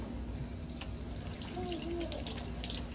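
Tap water running steadily into a sink while a girl's hair is rinsed on wash day, a constant near hiss with faint clinks and brief tones over it.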